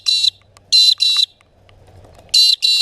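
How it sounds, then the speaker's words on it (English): Loud, repeated electronic alarm-like bursts in a trilling pattern, likely the call of a peewee (magpie-lark) that resembles a car alarm, with two bursts, a pause, then two more, close and harsh over quiet background. "It's a car alarm"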